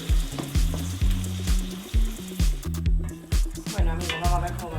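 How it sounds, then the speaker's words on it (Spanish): Peppers and fresh tomato fry in a pan with a steady, close sizzle that runs the whole time under rhythmic background music, with a few small stirring bumps. "se sofría con los pimientos"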